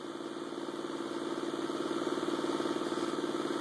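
A homemade 11-inch magnetic motor spins steadily with a close, even mechanical hum and whine that slowly rises in loudness as it gathers speed, with no voices.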